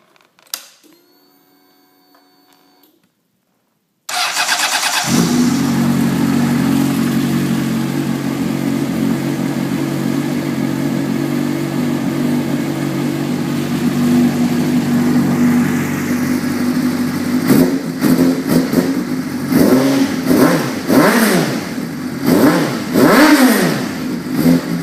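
A car engine cranks and fires up after a short silence, then settles into a loud, steady idle and is revved several times toward the end while still cold; no talking.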